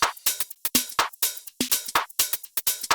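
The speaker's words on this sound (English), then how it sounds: "I'm going to mix the hats right here, which sound like this." Soloed hi-hats in a music mix play a rapid, busy rhythm of crisp ticks and short open hits, loud and alone with no other instruments or voices.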